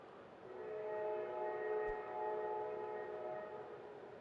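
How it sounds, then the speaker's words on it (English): A train horn in the Kerbal Space Program game, a distinctive multi-tone blast held steadily for about three seconds, swelling and fading softly with no talk over it. "Ladies and gentlemen, the train! With a different sounding horn."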